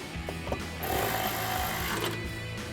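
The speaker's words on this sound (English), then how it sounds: "Tighten that down with a 10mm socket." A 10mm socket wrench ratchets a bolt down on a Westin HDX grille guard bracket for a 2019-2026 Silverado 1500, giving a fast, close mechanical clicking and whirring.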